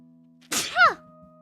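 A single sharp sneeze bursts out, close and loud, with a brief breathy onset followed by a strong voiced burst, then quiet hum.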